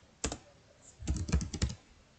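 Someone types a web address on a computer keyboard: one keystroke, a pause, then a quick burst of several close clicks in a quiet room.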